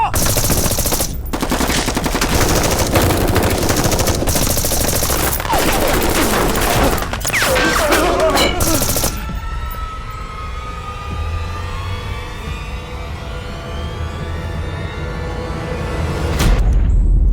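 Machine guns rattle in sustained bursts during a combat scene, loud and close for the first half, then trail off into fainter ringing and distant noise before a final burst near the end.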